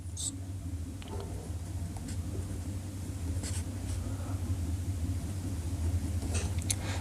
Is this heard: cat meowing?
no